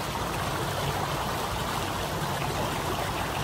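Steady rushing whitewater of a small creek running high after rain, a dense continuous hiss and roar with no breaks, close by.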